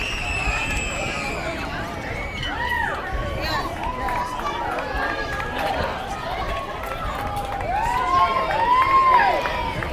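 Crowd of parents and players cheering and chattering after a 6U youth softball championship game, a lively outdoor babble with overlapping voices and shouts that swells louder toward the end.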